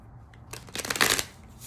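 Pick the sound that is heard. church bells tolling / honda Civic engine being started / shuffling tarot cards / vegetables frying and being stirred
shuffling tarot cards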